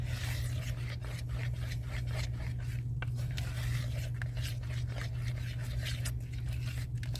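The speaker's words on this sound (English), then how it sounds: "I am scraping the sides and the bottom, pretty much like what you do with resin" Soft, close scraping and rubbing strokes as a tool works around the sides and bottom of a container of mixed silicone, repeating quickly over a constant low hum.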